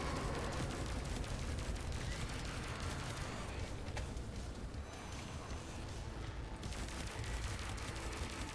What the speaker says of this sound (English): Something here is shooting.